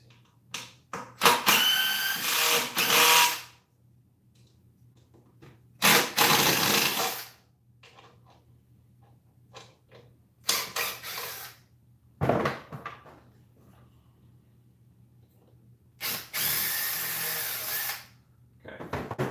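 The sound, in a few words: power drill undoing screws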